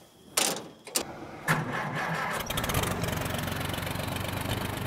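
An Oliver 70 tractor engine, recently rebuilt, is cranked with a few sharp bangs and then settles into a steady, fairly loud running rumble with a regular chugging rhythm close by.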